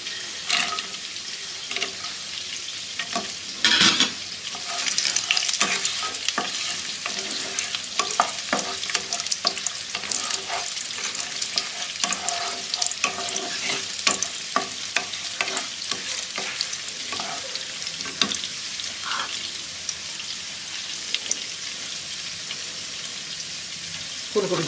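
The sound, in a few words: cashews and raisins frying and being stirred in a pan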